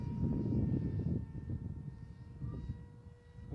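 A Dart XL RC plane fitted with a 6S Mini Drak powertrain, its motor and propeller buzzing steadily under throttle, loud and close with a slight dip and swell in level throughout.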